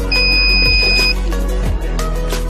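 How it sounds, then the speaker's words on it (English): A loud steady electronic beep from a Dahua NVR/DVR during a factory reset sounds over a running machine hum, holding a pure tone for about a second before stopping. "Keep holding the button for about 15 seconds until you hear a beep"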